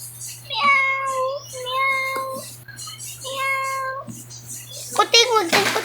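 A toy cat meows in a series of long, electronic-sounding mews, three drawn-out calls with short pauses between them, loud and close over a low steady hum. A voice breaks in at the end.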